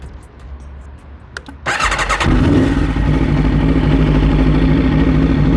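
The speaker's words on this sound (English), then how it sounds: "fire up this machine one last time and take us out of this magnificent video" An Aprilia RSV4 Factory motorcycle engine cranks with a couple of clicks, then fires and settles into a loud, steady, close rumble that runs to the end.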